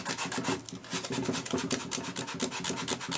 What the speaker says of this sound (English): I'm using 120 grit sandpaper to put some pressure on the very edge